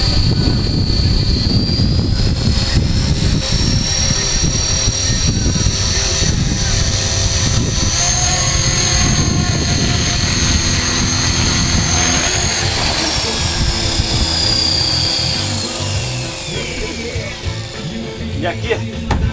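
A CopterX 450 RC helicopter flies close by with a loud, continuous high-pitched rotor and motor whine that holds steady and eases slightly near the end.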